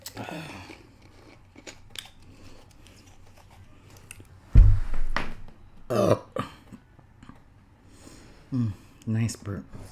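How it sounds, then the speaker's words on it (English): A loud, close burp bursts out midway, set among quieter chewing and crunching of baked pasta and garlic bread, with a few more short throaty sounds afterward. "Nice burp."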